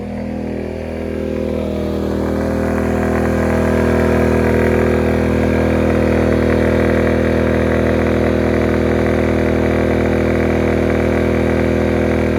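Genmax GM1200i 1200-watt inverter generator runs steadily under maximum load, a loud, close, continuous engine drone with a slight rise in intensity early on, then a constant buzzing hum.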